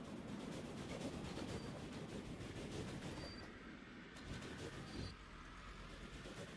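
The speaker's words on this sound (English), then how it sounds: "Oop, 2 coal trains." Coal trains in the video game Voxel Tycoon roll along the rails with a steady, dense rumble and clatter of wheels and wagons. The noise stays continuous and evenly loud throughout, with no voices.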